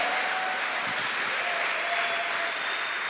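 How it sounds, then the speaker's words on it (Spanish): A church congregation clapping their hands in steady, dense applause that fills the room at a moderate distance, with a faint sustained tone running underneath. "dale fuertes palmas al Señor"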